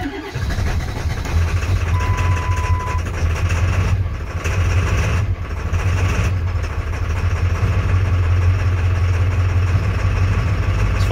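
Diesel engine with at most seven working glow plugs idles roughly on 5W-40 oil, a steady low rumble that carries on without pause and is heard up close with no talking.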